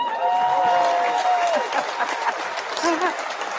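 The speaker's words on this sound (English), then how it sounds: "I love that applause." A studio audience applauds on a talk show set, a continuous wash of clapping heard under a host's and guest's overlapping speech, steady and moderately loud.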